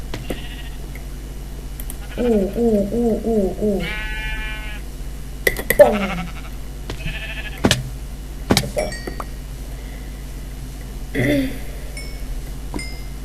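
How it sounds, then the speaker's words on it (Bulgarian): Sheep in the Minecraft video game bleat in a few short, wavering bursts over a steady low hum, with clicks and other game noises scattered between calls. "Тук имаше още една овца."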